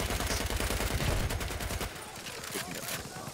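Battlefield 1 battle gunfire around a train, with shotgun blasts mixed into a continuous rattle of shots and explosions, loud and dense, with a voice speaking faintly underneath.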